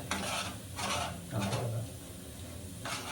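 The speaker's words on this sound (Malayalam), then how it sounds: "ഇനി നമ്മള് ഈ ചിക്കൻ ഫുള്ള് ചിക്കനും സാമഗ്രികളെല്ലാം ഇതിൻ്റെ അകത്ത് ഇടാൻ പോവാണ്" Chicken and curry ingredients fry in a pan, with loud bursts of sizzling and scraping stirring strokes repeating every second or so, close up and with no talk.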